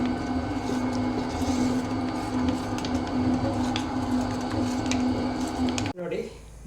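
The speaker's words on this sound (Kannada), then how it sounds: "ಇವಾಗ ಇದನ್ನು ಗ್ರೈಂಡ್ ಮಾಡಲಿಕ್ಕೆ ಹಾಕ್ತೇನೆ. ನೋಡಿ, ಇವಾಗ ಮಸಾಲ ಕೂಡ ನೈಸಾಗಿ ಗ್ರೈಂಡ್ ಆಗ್ತಾ ಬಂತು." Mixer grinder blending masala for a village-style fish curry, a loud continuous motor whine held steady close by, then cut off abruptly near the end, with a person speaking over it.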